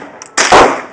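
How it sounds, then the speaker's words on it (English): A single sharp report from a fully automatic .22 rifle at a shooting range, close and loud, with a quick crack and a short ringing decay. "they're fully automatic 22 rifles."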